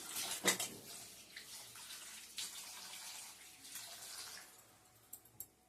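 Water poured over small fish to wash them, a soft, fairly distant splashing and trickling in uneven bursts with brief pauses and a few light knocks at the end.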